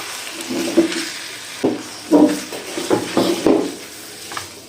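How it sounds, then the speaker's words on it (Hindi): Spaghetti being tossed and mixed into sauce in a frying pan for a chicken vegetable dish, with a soft sizzle under several wet, clattering stirring scrapes spaced irregularly, close by and without talk. "स्पैगेटी डाल के मैं इसको मिक्स कर लूँगी"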